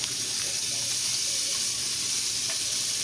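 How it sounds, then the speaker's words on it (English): A pancake fries in butter in a hot pan for bacon and banana pancakes, giving a steady, close, unbroken sizzle with a bright hiss. "throw some more butter in the pan and do our next pancake"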